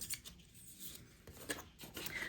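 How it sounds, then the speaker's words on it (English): A pair of crafting scissors, different from fabric ones, is handled with a few short metallic snips and clicks against quiet room noise, close and fairly soft. "It's just a nice pair of scissors."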